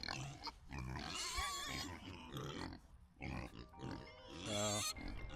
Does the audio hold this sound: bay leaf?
no